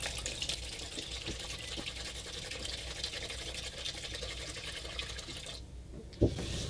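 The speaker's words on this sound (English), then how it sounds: "I'm going to put in enough acetone to really just cover it up" Acetone is poured into a container over steel parts, giving a faint, steady liquid trickle close by that ends in a single sharp knock.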